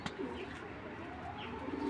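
Healthy racer pigeons coo in a loft, a steady low murmuring of overlapping calls close by with faint chirps mixed in.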